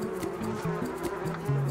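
Swarming bees in a video game, set in a honey-themed forest, give a steady, wavering electronic buzz whose pitch dips and rises in repeated swells, loud and continuous with no talk.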